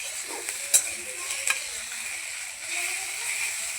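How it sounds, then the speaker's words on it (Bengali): Green chillies, dried chillies and onion fry in a pan with a bright, continuous sizzle, broken by a couple of quick utensil clicks and scrapes near the start. "এদিকে আমি কাঁচা লঙ্কা, শুকনো লঙ্কা আর পেঁয়াজ একটু ভালো করে ভেজে নেব।"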